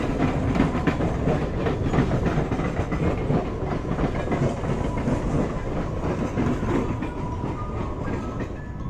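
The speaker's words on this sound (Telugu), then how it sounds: "ఇది సుల్లూరుపేట ఎంజీ సెంటర్ లోకల్ అనుకుంటా" A Sullurpeta to MGR Chennai Central local train passes close by with a loud, continuous rumble and steady clickety-clack of its wheels throughout.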